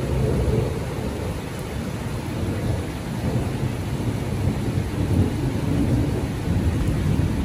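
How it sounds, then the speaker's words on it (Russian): Thunderstorm with heavy rain pouring steadily and deep rolling thunder rumbling throughout, a dense continuous wash of sound with no voices. "И как польет, вон там молнии фигарят вообще."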